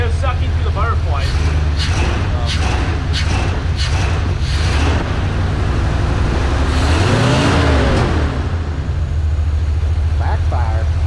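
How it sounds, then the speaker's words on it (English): A Mercedes W100 engine idles roughly and loudly throughout, its low rumble swelling into a revving surge near the end, with people talking over it; no distinct backfire pops stand out. "Backfire."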